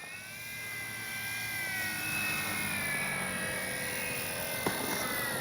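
A FlexInnovations RV-8 60E electric radio-controlled model airplane drones steadily on landing approach into the wind, its high whine holding level with slight pitch shifts as it descends, with no voices.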